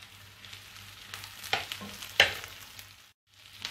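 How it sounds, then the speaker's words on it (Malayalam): Onions and shallots are sautéed on high flame for a Kerala beef dry fry, with a soft continuous sizzle and a few distinct stirring scrapes and knocks, then a brief pause. "ഇനി ഈ സവാളയും ചെറിയുള്ളിയൊക്കെ നന്നായിട്ടൊന്ന് വഴന്ന് കിട്ടണം. അതുവരെ ഒന്ന് ഇളക്കി കൊടുക്കാം."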